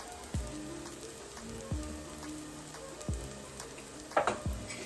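Soft, steady sizzle of ground masala frying in a pan for potato masala, punctuated by four sharp knocks of a utensil against the pan at roughly even intervals.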